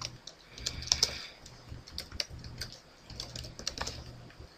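Fast, irregular clicking of a computer keyboard being typed on, steady taps close to the microphone with short pauses and no voices.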